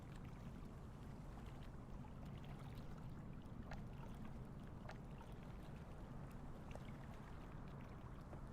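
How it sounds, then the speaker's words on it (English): Water laps softly at a lake shore near a glider port, a faint steady wash with a few small splashes and no voices. "So if I shut up for a second and you listen, you can hear the water."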